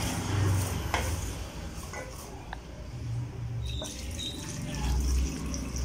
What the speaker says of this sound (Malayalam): ഇനി നമുക്ക് കുറച്ച് വെള്ളവും കൂടി ഒഴിക്കാം.